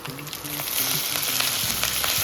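Urad dal and curry leaves fry in hot oil for a tamarind rice tempering, with a dense, continuous sizzle close by and scattered crackles and pops, plus faint stirring, with no talk.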